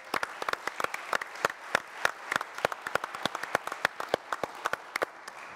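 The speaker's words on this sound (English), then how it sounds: "I think we should give her a round of applause." A modest round of applause at an RTS Cambridge event, sparse individual hand claps ringing out distinctly in an irregular, fairly quiet patter from a small audience.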